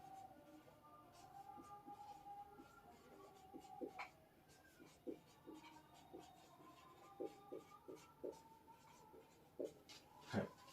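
Soft, quiet scratching of writing as a quadratic equation answer is written out during a class 10 maths lesson: intermittent short strokes and light taps over a faint background hum, with no talk.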